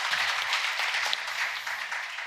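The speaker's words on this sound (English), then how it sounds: "let's give him a nice round of applause" A forum audience at a diplomacy conference in Seoul applauds an arriving deputy minister panelist, with a steady wash of clapping from a mid-sized crowd lasting the whole moment, a faint voice briefly underneath.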